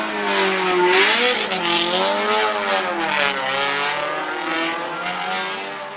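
A race car at the Speed Classic hill climb in Cape Town screams past with a loud, sustained engine note that rises and falls through gear changes, nearby and dominant, with no voices over it.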